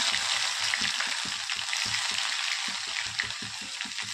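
Cumin seeds and garlic crackle in about two spoons of hot oil in a pan, a close, steady, dense sizzle with soft popping throughout and no talking.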